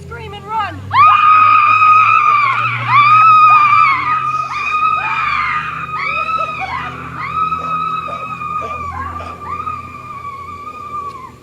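Cartoon characters fleeing a great ogre let out loud, sustained high-pitched screams, overlapping and continuing for several seconds with brief breaks.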